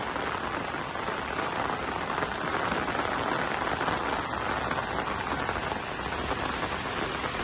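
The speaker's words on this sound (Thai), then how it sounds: "แต่ฝนยังลงเม็ดอยู่นะครับ" Steady rain falls in Maha Sarakham after a heavy downpour that caused flooding, a dense, even patter on surfaces with no pauses and no voices.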